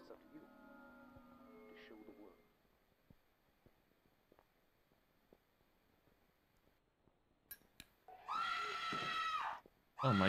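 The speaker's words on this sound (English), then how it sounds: "How do I make her not scream?" A voice screams in a video game, with a burst at the start and a longer, louder, shrill scream near the end, separated by near silence and faint ticks.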